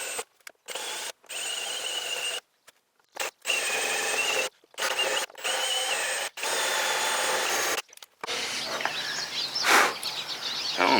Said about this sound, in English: I'm going to use this special drill bit, and I'll just go through and hit all these one by one